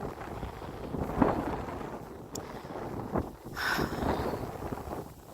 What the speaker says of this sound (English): And then it's so windy.